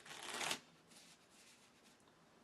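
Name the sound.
shuffling a deck of game cards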